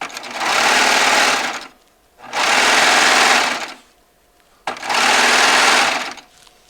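Baby Lock Triumph serger stitching jelly roll quilt strips in three loud, even runs of rapid whirring chatter, each a couple of seconds long with quiet pauses between, no talk.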